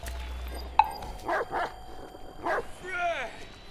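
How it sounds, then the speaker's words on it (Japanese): Dog barking in the game Watch Dogs 2, a few short yips and barks over ambient game sound, with a commentator talking near the end. "ここにワンちゃんいる。"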